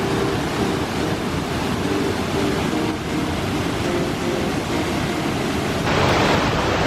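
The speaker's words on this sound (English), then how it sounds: "We're right above the waterfall." Waterfall on a rainy day, heard from just above the falls on a hiking trail: a steady, dense roar of rushing water, loud and unbroken throughout, with no voices.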